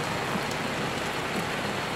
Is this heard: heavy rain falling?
yes